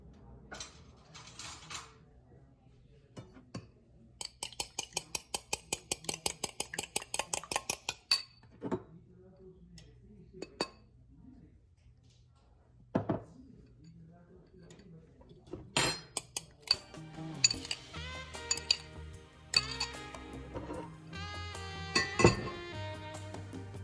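Eggs with salt and pepper whisked in a bowl with a metal utensil: a fast run of rhythmic clinks against the bowl, then scattered scrapes, clatter and dish knocks close by, with no talking.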